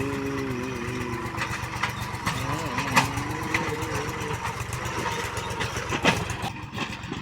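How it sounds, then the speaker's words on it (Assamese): A tractor engine idles steadily with a low, continuous rumble as it arrives at a farm field for paddy planting, with voices talking over it and a few sharper knocks along the way. "ট্ৰেক্টৰ আহি গ'ল, ট্ৰেক্টৰ আহি গৈছে।"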